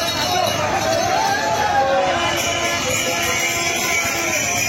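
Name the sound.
huge crowd of pilgrims at Baidyabati rail gate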